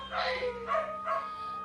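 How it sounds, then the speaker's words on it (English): Dogs bark three times in quick succession, a mix of yips and barks at a moderate distance, heard against a low steady hum. "Dogs are going crazy?"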